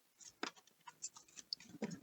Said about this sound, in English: Maybe get one more bridge shuffle here.